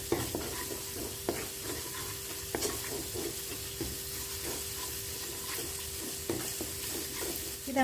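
Ground spice paste with a teaspoon of coriander powder is stir-fried in a pan, with steady close sizzling broken by repeated scraping strokes of the spatula.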